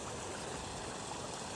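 Irrigation water running through a channel in a farm field, a soft, steady trickling flow heard close and fairly quiet, with no voices.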